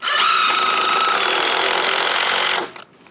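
A drill drives legs into deck stairs, giving a loud, continuous whirring motor run of about two and a half seconds that stops abruptly, with nobody talking.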